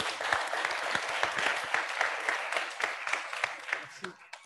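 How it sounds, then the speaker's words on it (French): A crowd of young forum participants in Dakar applauds loudly, a sustained wash of clapping with some distinct sharp claps, tapering off toward the end. "Merci, on s'applaudit très fort."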